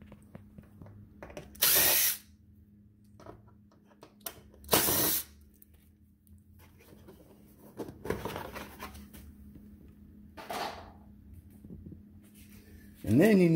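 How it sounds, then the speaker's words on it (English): A power driver backs T20 screws out of the front bumper cover of a Polaris RZR in a few short whirring bursts, close and loud, separated by quieter handling clicks, with someone talking between the bursts. "This is a T20 for these two screws here."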